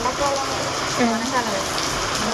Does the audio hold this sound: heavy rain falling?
yes